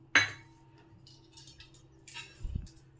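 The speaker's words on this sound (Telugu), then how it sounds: "ఒక 4 స్పూన్స్ షుగర్ వేసుకుందాము." Spoonfuls of sugar added to milk for homemade apple juice made without a juicer: a sharp metallic spoon clink against a container, then faint scraping taps and a soft low thud near the end, close and quiet.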